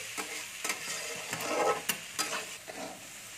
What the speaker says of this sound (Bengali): আমি একটু মটরশুঁটিটা নেড়ে নিচ্ছি